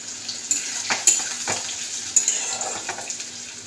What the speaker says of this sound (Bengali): তো এই যে দিয়ে দিচ্ছি, পেঁয়াজটা একটু ভাজা ভাজা হয়ে যায়।